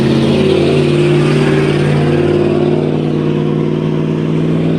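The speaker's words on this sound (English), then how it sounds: "Sorry, I'm at the street light. Cars are coming." Steady, loud traffic noise at a street light, with engines humming and cars passing continuously and close by, without talk.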